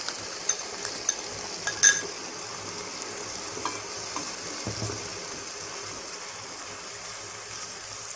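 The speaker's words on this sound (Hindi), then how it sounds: "अब हम टमाटर गलने तक इसको पकाएंगे।" Tomatoes for a dhaba-style chicken curry cook in a pan with a soft, steady sizzle and a few clinks of stirring near the start, close and fairly quiet throughout.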